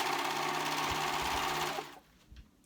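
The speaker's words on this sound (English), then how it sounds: "I'm going to serge the edges" A serger overlocks fabric edges with a fast, loud mechanical whir for nearly two seconds, then stops abruptly, leaving a quiet room with a faint soft knock.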